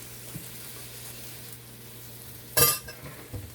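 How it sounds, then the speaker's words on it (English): Vegetables sauté in a pan for Jamaican codfish escovitch, a quiet steady sizzle with a steady low hum beneath, broken by a sharp clatter of a utensil stirring or scraping partway through and a softer knock near the end. "So just gonna let everything just saute down."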